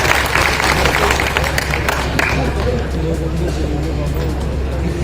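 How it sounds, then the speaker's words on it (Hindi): An audience at an evening poetry recital breaks into lively clapping that is loudest at first and then settles, mixed with crowd murmur and voices. "तालियां बजाइए।"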